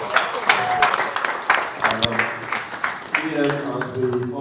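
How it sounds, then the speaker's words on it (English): Audience applause at an HR masterclass, steady scattered clapping with sharp individual claps standing out, mixed with a few voices and murmurs throughout. "I think it deserves another round of applause"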